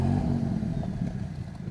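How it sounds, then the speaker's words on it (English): Maserati MC20 sports car engine idling, a steady low rumble close by, brief and fairly even with faint clatter on top. "That's the idle right there."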